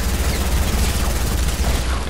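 Submachine gun fire in a multiplayer video game, a loud, continuous rattling stream of rapid shots with a constant low rumble underneath that runs without pause, and no talking.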